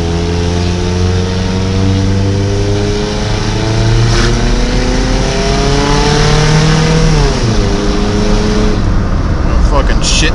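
A Toyota truck with a modified transmission climbs a hill, its engine revving loudly and steadily. The pitch climbs and drops as gears change, close and continuous throughout.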